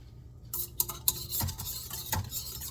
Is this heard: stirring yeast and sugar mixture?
yes